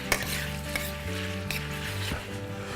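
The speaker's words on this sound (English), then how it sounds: "As you can see, the heat is still on the pan. It's gonna sizzle a little bit," Lemon parmesan pasta sizzles in a hot pan while being stirred, a steady frying hiss with a few clicks and scrapes of the utensil against the pan.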